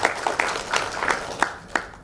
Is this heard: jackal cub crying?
no